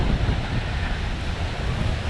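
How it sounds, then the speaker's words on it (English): Stirling Falls, a large waterfall in Milford Sound, roars as a broad, steady rush of falling water, loud and close with wind buffeting the microphone. "here at Stirling Falls, one of the bigger waterfalls in Milford Sound"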